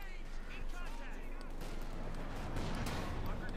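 Mortar fire in the Company of Heroes 2 battle game rumbles as a continuous spread of booming impacts and crackling gunfire, moderately loud, with a commentator's voice running over it.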